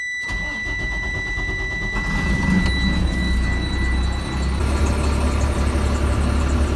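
A bus with rear air suspension trouble cranks over and fires up, then settles into a steady, loud diesel idle with no voices.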